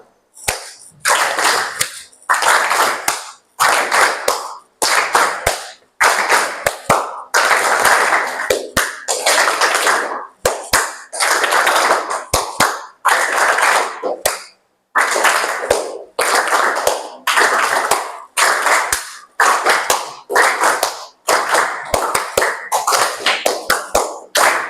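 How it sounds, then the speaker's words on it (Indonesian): A class in Indonesia claps in call-and-response patterns, sharp bursts of loud hand claps in short groups separated by brief pauses, repeating throughout. "Kalau ibu tepuk tangannya 1 kali, kalian balas 2 kali."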